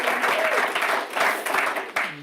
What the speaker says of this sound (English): So let's just give him a round of applause.